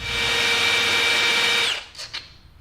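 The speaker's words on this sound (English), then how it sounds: "I'm gonna have to drill out a couple of these flange washers" A power drill whines steadily at close range, drilling out flange washers, then stops, followed by a couple of brief scraping bursts.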